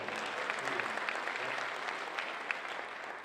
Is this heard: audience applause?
yes